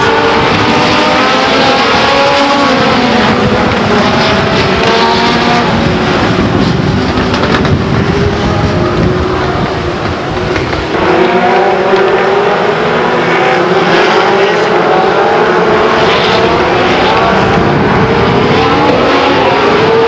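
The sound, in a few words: race cars at Stockton 99 Speedway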